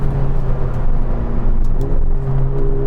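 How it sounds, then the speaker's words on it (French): A powerful 4-litre twin-turbo V8 engine in a McLaren GT supercar drones steadily at close range, a low sustained hum with a faint rising whine, running continuously without any speech. "Donc on a un V8 4 litres. Biturbo de 620 chevaux"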